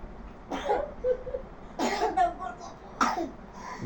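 Three separate coughing bursts from a person, spaced apart at moderate loudness, with a faint hum underneath.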